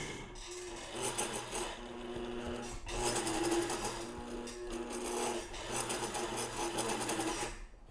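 A home sewing machine runs steadily while understitching fabric, its needle whirring in a rapid, continuous buzz. There is a brief pause near the middle, and the machine stays close and fairly quiet throughout.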